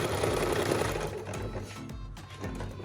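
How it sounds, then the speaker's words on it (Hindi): A Jaguar sewing machine stitching, a loud, close, steady mechanical whirr that runs throughout, with brief pauses and faint clicks toward the end, as reverse stitching is engaged by a lever; no talking. "ये वाला लीवर आप दबाएं तो मशीन का स्टिच बैक को चलना शुरू हो जाएगा"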